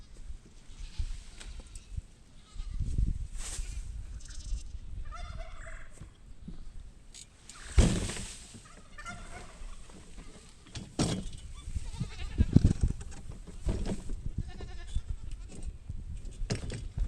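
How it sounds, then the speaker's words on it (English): Pygmy goats on a farm bleat in short, scattered cries at feeding time near a garden, some close and loud, with other animal calls and rustling between them. "Let's go feed some of the pygmy goats."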